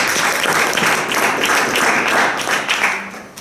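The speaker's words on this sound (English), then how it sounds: "Please offer applause to Radu, or general evaluator." Members of a meeting or speaking club applaud after an introduction, a close, steady round of many hands clapping that holds for a few seconds and then tapers away.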